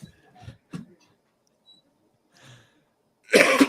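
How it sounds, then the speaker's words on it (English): A man coughs in a courtroom, a few short, sharp coughs spaced apart, then a louder burst of harsh coughing at the end, close and clear against silence. "Got a bad cough."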